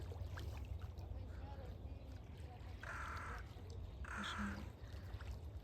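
Two distant seagull calls ring out over a steady low rumble of wind and sea, faint and spaced a second apart, on the Odesa seashore at sunrise.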